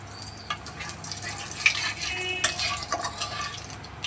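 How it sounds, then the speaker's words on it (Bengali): Nigella seeds tempering in hot oil after aubergine was fried for a hilsa fish dish, a soft steady sizzle close by with light clinks of utensils and a brief splash, no talk. "আরও একটু তেল দিয়ে তার মধ্যে ফোড়নে দিয়ে দিচ্ছি একটু কালো জিরে"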